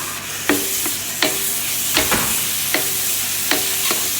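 Minced lamb stirred into golden-brown fried onions in a pan, a steady sizzle broken by sharp scraping strokes of the spoon at regular intervals, close and moderately loud.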